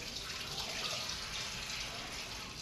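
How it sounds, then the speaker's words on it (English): Running tap water splashes steadily over hands being washed at a kitchen sink, a soft, continuous hiss that stays even throughout with no talking. "I'm gonna wash my hands really quick here."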